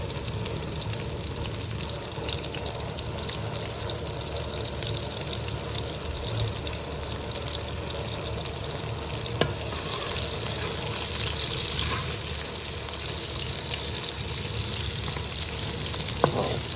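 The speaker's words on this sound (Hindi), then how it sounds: "ये देखिए घी गर्म हो गया, इसमें प्याज डाल दें, उनको अच्छी तरह ब्राउन कर लें।" Onions sizzling and frying in hot ghee in a pan for a gobi (cauliflower) dish, a steady broadband hiss with occasional louder spits and stirring clinks, close and continuous with no talking.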